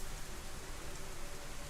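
Steady rain hisses over the outdoor world of the video game DayZ, a dense, even wash of falling drops on surfaces that continues unbroken throughout, with no voices over it.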